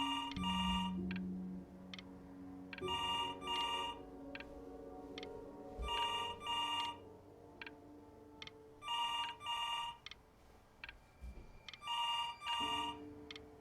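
A telephone rings repeatedly in the video game Before Your Eyes, bright electronic ring bursts recurring about every two seconds over soft musical tones and a faint ticking, with no speech.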